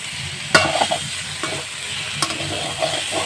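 Potato and soybean curry masala frying in a pan, stirred with a spatula: a steady sizzle broken by sharp scrapes and knocks against the pan, close and moderately loud, with no voices.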